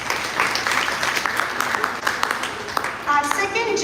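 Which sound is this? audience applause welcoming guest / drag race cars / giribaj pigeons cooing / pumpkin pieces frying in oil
audience applause welcoming guest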